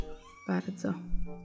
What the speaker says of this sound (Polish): Kocie, musisz miauczyć tak bardzo.